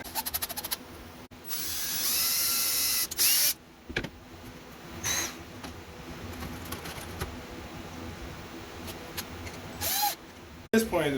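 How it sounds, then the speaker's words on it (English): A power drill drives screws into small wood pieces at close range, with a sustained whirring burst followed by several shorter bursts and handling clatter in a quiet room. "Now we screw it in."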